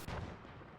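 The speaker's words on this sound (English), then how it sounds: "It's alright, it's just artillery." A single booming artillery blast in a D-Day battle video game, a sharp loud impact with a rumbling tail that fades out quickly.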